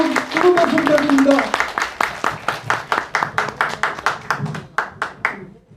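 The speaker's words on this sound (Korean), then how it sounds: "여러분 뜨거운 박수 부탁드립니다." A seated crowd at a Biocube business presentation claps in steady unison to welcome a Busan regional branch head to the stage, sharp regular beats following a brief announcer's voice and fading slightly at the end.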